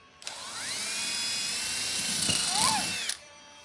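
A power drill whines steadily at high speed for about three seconds, its pitch rising and bending slightly as it bites into a wall board, then stops abruptly.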